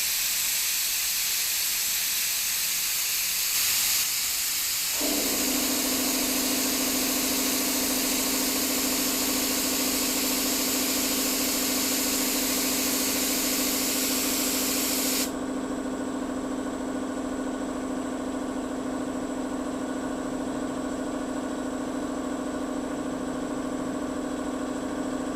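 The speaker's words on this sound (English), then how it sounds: "when we start spraying and the compressor starts cycling on and off" A loud steady hiss from an air spray gun starts, then an air compressor motor kicks in with a droning hum and whine, both running continuously at close range.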